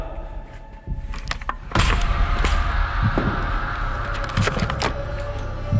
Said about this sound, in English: That door at the very end of the hall just shut!